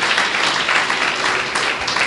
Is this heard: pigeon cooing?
no